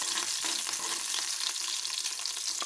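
Green chillies fry in about a spoonful of hot oil in a heated pan for masala Maggi, giving a soft, steady sizzle with light crackles and faint stirring.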